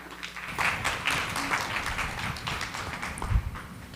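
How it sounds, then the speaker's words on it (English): A small audience claps at a cybersecurity talk, a fairly quiet scatter of hand claps that starts after a brief pause and continues unevenly, with one louder thump near the end. "Let's give a big round of applause."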